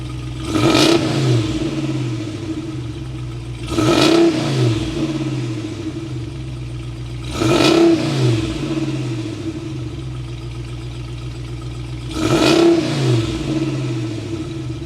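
A 2022 Ram 2500 Power Wagon heavy-duty truck's 6.4-liter V8 Hemi revs four times in a steady rhythm, each loud throttle blip rising and falling back to a rumbling idle, heard up close with no talking.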